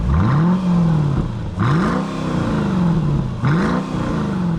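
A small 360-horsepower car engine starts and revs, with three rising then falling engine pulls heard up close and loud and no talking over them.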